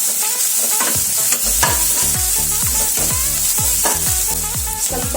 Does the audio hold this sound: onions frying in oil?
yes